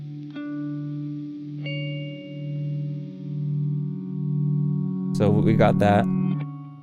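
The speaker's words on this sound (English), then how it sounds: "we'll hear blooper do an octave down reverse version of it" Ambient guitar loop built through a looper pedal, with an octave-down reversed layer from a Blooper pedal joining in, sustained chorus-washed tones swelling then a denser burst near the end; someone briefly speaks over it.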